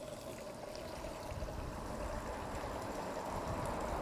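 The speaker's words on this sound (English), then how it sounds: "Let a fair bit of water go in there." Water pours steadily into a container, a rushing, gurgling flow that swells slightly toward the end, close by with no talking.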